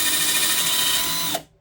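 A drill spins a LETINE wire stripper twister tool on 14 gauge wire, giving a loud, steady high whine that cuts off abruptly near the end.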